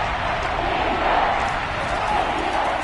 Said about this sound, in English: This crowd urging on their defense.